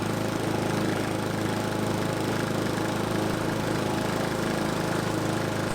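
A lawn mower runs steadily across tall fescue grass while laying down stripes. Its engine holds a continuous mid-pitched drone close by, with no talking over it.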